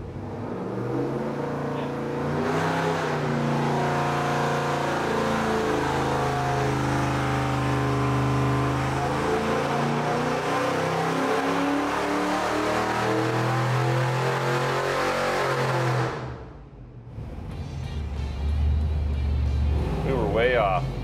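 A 1968 Chevy C10 truck with a swapped LS V8 pulls hard on a dyno from about 3,000 to 5,500 rpm, the loud engine note rising steadily for roughly fifteen seconds, then cutting off abruptly before idling again under chatter.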